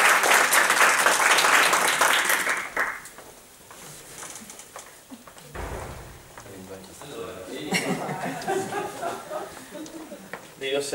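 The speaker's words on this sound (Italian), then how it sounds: "facciamo un applauso" A few seconds of audience applause at a parents-and-children seminar, loud and dense at the start, then fading as a speaker's voice takes over.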